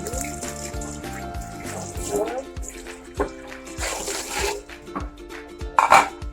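Water runs and splashes in short bursts with some clattering, over a steady background of tonal music or hum.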